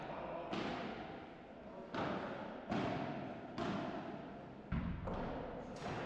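A padel ball knocks against the glass wall of the court during a quarter-final match, giving a series of sharp, regularly spaced thuds about every second, with commentary talk running underneath.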